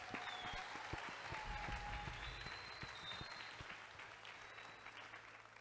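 A congregation at a Sunday service of an Assemblée de Dieu church in Beni applauds, a dense wash of clapping that starts full and slowly fades, with a few faint voices and whoops above it.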